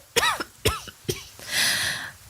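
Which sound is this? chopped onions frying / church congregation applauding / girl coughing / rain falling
girl coughing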